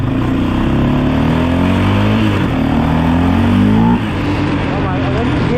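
A 2006 Yamaha Raptor 700R ATV engine revs hard under throttle close by, a loud rough drone climbing and surging, then easing back, with someone talking over it.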